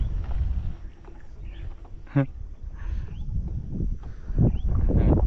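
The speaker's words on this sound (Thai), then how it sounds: "ลมยังแรงเว้ย" Strong wind buffets the microphone beside a boat on the Lam Phra Phloeng reservoir. Low rumbling gusts swell and ease with faint water sounds, and a person speaks briefly partway through.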